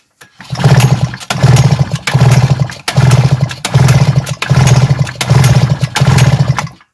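An AL-KO BC 4535 petrol brush cutter, repaired for a no-spark fault with a replaced ignition module, runs close and loud, its engine surging in seven rhythmic bursts with short dips between them.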